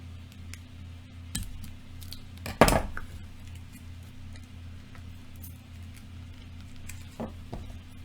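Scissors snip through plastic snack packaging from a Sakuraco Japanese snack box, a few sharp close cuts and crinkles over a steady low hum, with one louder crunching burst partway through.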